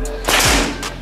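A single sharp PCP air rifle shot, a brief close crack with a quick thud, over light background noise.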